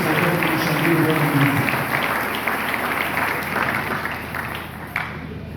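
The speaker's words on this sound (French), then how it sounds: "Est-ce que quelqu'un peut acclamer le Seigneur très fort?" A church congregation loudly cheers and applauds the Lord, sustained crowd clapping mixed with shouts and voices, strongest at first and tapering slightly as it continues.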